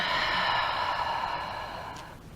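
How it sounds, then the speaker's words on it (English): A long, steady breath out during a Hatha yoga flow, close and audible, with a breathy hiss that slowly fades before ending. "and breathing out"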